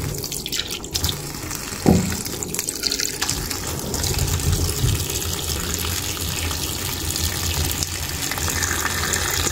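Kamansi (breadnut) being washed in water, with running tap water, splashing and sloshing in a basin, close and steady, plus a brief knock near the start.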